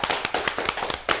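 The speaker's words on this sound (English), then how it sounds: "Let's clap for that." An audience applauding at a 2025 show opener, a short burst of sharp, fairly close hand claps in an uneven rhythm that swells again at the end, with no talking over it.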